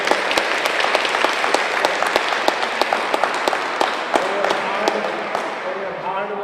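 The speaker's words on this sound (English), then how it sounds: "Let's give a big round of applause." Audience at a yoga session applauding with dense, steady clapping throughout, a few sharper individual claps standing out, and fading slightly near the end.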